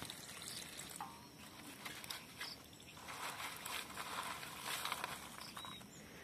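Soybean pods are washed by hand in a little water, with soft, quiet sloshing and trickling splashes that come and go.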